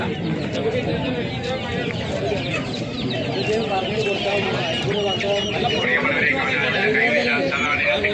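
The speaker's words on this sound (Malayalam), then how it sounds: "അവിടെയൊക്കെ കുറേ കോഴികൾ വിൽക്കുന്നുണ്ട്" Chickens cluck amid a busy, noisy crowd at Peruvallur market where chickens are sold, their calls mixed into constant chatter and bustle.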